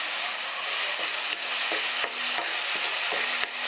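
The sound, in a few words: spices and tomatoes frying in a pan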